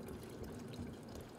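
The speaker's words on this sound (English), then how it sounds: "Drink some water here." Water runs steadily from a faucet in the sci-fi video game Prey, a continuous splashing stream heard alone for a moment.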